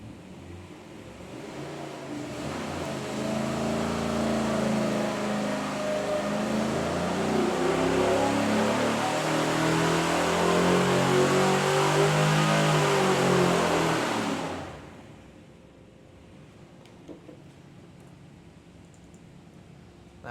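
A 370ci GM LY6 V8 truck engine pulls hard on a dyno, a loud sustained roar rising in pitch for about fourteen seconds before cutting off abruptly to a quiet hum.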